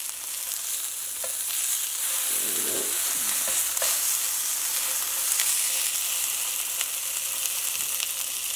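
A salmon fillet sizzles steadily in a frying pan, a bright continuous hiss and crackle that stays close and even throughout, with a few soft taps and no voices.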